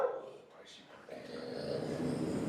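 A dog barks and yips indoors at home at a moderate distance, mixed with a person talking over it.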